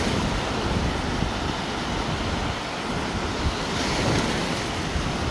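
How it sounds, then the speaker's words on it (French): Sea waves wash steadily onto a Mediterranean beach, a broad continuous roar of surf with faint wind, constant and fairly loud with no voices. "en entendant le bruit des vagues et tout"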